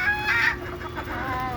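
Free-ranging native desi chickens being fed cabbage leaves cluck and crow steadily, at moderate distance over a constant background hum.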